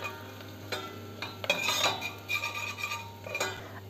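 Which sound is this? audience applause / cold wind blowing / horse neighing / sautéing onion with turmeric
sautéing onion with turmeric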